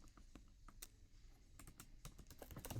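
Steady typing on a computer keyboard while code is written, rapid irregular keystrokes with a few louder key hits, close and alone with no talking.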